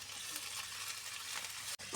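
Corned beef sizzles in a pan with onions, a close, dense and steady frying hiss that drops out for an instant near the end.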